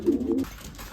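Racing pigeons in a loft give a single low, throaty coo, brief and close, trailing off into quiet room noise.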